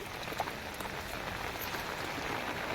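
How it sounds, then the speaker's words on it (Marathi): Heavy rain pours down steadily in a mango-growing area, making a dense, even hiss of falling drops with no other sounds standing out. "बघू शकतो आपण आज तुफान पाऊस आपल्याकडे"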